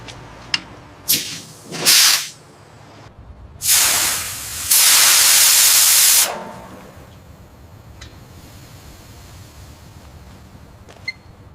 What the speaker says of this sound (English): Opening the main valve now.